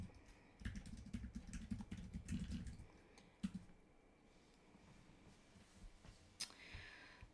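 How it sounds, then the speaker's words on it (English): Quiet, uneven bursts of clicking keys on a computer keyboard, with a short pause in the middle and a few scattered taps toward the end. "if I can type."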